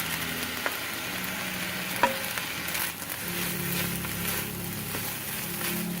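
Soy sauce sizzles and crackles on fried rice in a Breville electric wok, a steady close hiss broken by a few light clinks of stirring.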